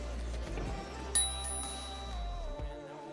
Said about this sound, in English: It's got like a double bell, look.